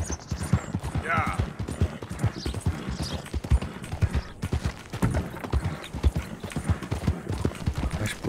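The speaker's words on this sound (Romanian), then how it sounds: "Duce, suflă calul, săracul." A horse's hooves clip-clop in a steady, continuous walking rhythm while being ridden in a video game, close and clear, with a brief whinny-like sound early on.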